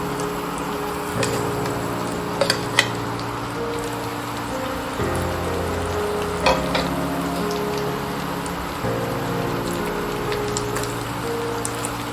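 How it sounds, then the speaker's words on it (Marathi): Boiled potatoes frying in a pan for an Indian potato sabji give a steady, close crackling sizzle throughout, with a few brighter pops and a soft tonal background underneath. "आता आपण यात उकडलेले बटाटे घालूया।"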